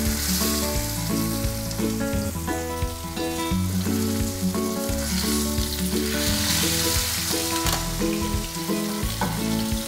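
A thick steak for medium-rare sears in a hot pan, forming a dark crust: a loud, close, unbroken sizzle runs the whole time over a steady low tonal hum.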